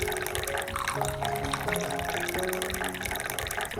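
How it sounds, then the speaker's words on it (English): Hot water, about 500 milliliters, poured steadily into a jar holding eggshells and bananas, a continuous close splashing fill with a slowly shifting pitch and no talk. "Next, I added another 500 milliliters of hot water."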